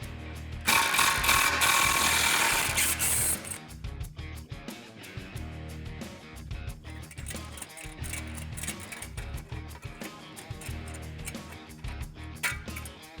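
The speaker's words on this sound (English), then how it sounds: "we're gonna take this guy off with a 13mm socket" A 13mm socket on a ratchet works a bolt loose to remove the exhaust tip on a 2019-2020 RAM 1500 5.7L, giving a rapid, close clicking of the pawl in repeated bursts with tool handling noise between strokes.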